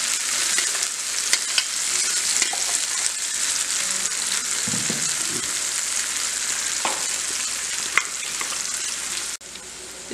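Red chili paste for Schezwan sauce fries in a hot pan with a steady, loud sizzle, broken by a few scraping stirs and brief clatters, with no one speaking.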